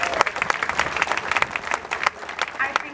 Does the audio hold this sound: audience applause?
yes